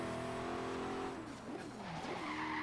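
A modified HDT Ken Brock car in Forza Horizon 3 skids and slides across pavement or sand, steady engine drone overlaid with shifting, wavering tire squeals that sweep up and down, loud and continuous with no talking.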